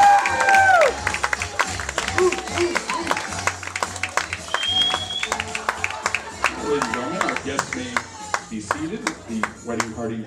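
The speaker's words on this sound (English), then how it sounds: "big round of applause for Sue and Rick" Wedding guests applaud and cheer as the bride and groom, Sue and Rick, are welcomed into the reception, a dense crowd clapping with an announcer's voice and music mixed in.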